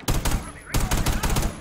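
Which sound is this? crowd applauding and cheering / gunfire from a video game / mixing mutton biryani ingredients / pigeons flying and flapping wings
gunfire from a video game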